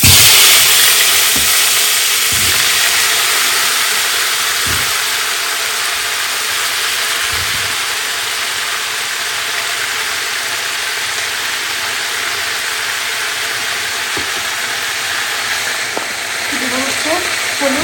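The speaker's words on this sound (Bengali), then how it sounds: "এখন হলো ফুলকপিগুলো একটু ভাজবো।" Cauliflower florets frying in a pan after fish, giving a steady, loud, dense sizzle that runs unbroken throughout, with a few faint knocks and clinks underneath.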